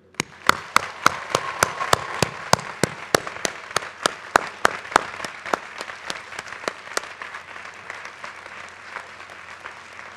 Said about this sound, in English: recognizing all of those who helped you get to this moment with a round of applause